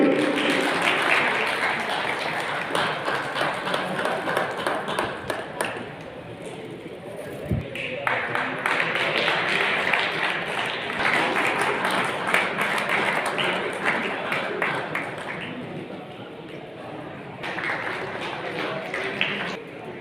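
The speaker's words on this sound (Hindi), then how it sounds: "ताली बजा दे भाई।" Applause from a crowd at a Jat community gathering in a hall in Bhiwani, a sustained scattered clapping that swells and dips over about twenty seconds, with voices talking over it.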